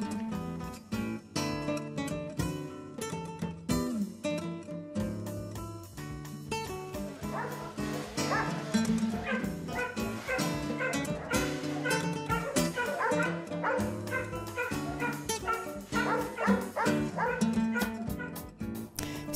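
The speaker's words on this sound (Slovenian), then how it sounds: "Še posebej se ga razveselijo tukajšnji psi." Many dogs at an animal shelter in Maribor, Slovenia, bark, yip and whimper almost nonstop at close range, layered and overlapping in a lively, echoing din.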